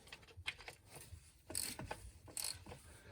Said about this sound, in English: I'll put a wrench on here.